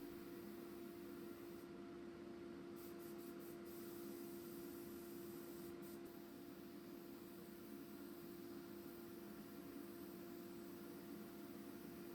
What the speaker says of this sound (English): I'll just spray my lacquer directly on top of that